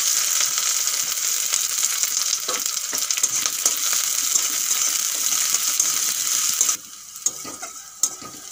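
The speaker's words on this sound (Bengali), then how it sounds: "এখন দিয়ে দেবো পেঁয়াজ কুচি" Chopped onion sizzles steadily in hot oil in a pan, with light stirring clicks throughout; the frying drops to a quieter crackle toward the end.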